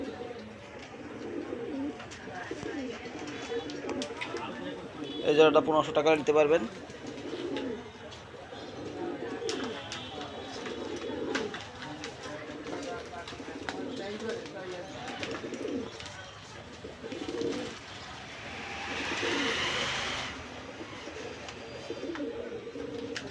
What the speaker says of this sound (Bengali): পুরাতন ব্লাড লাইনের মাসিয়া কবুতর।